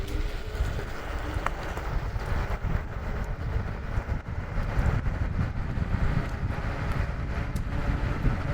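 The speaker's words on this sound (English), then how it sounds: "Come on, fully throttle it." An electric scooter is ridden at full throttle, heard as a loud continuous rush of wind and road roar that swells steadily, with no talking.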